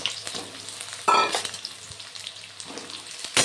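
Eggplant pieces sizzle steadily in hot oil in a pan, with two louder bursts of spattering as they are stirred and turned, close and clear with no voices.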